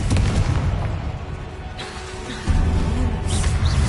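Confringo spell explosion in a Hogwarts video game, heavy booming blasts with a loud burst at the start, a quieter stretch, then a second strong boom and crackling, with no voices over it.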